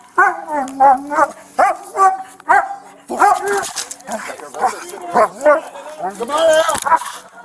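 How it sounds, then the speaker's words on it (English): A police dog used in a building search barks repeatedly in loud, close bursts, with some yips and whines mixed in, while people shout over the barking. "Police dog being used to search!"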